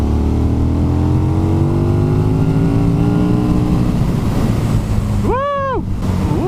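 A 2017 KTM 1290 Super Duke R motorcycle accelerates in fourth gear, its engine drone climbing in pitch under heavy wind rush, then the revs dip and rise sharply near the end.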